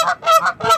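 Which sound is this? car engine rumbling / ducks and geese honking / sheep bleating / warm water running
ducks and geese honking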